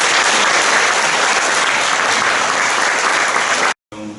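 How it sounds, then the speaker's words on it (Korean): Loud, dense applause from a large congregation at a Korean thanksgiving worship service, continuous clapping for nearly four seconds, briefly cut off and then resuming. "여러분들은 만능의 박수를 보내주시길 바랍니다"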